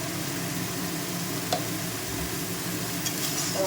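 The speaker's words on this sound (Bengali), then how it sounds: "নাড়াবো মশলাটা আস্তে আস্তে কড়াই থেকে তেল ছাড়ছে" Spice mix frying in oil in a wok, a steady close sizzle with the occasional soft scrape of stirring, continuous and moderately loud with no talking.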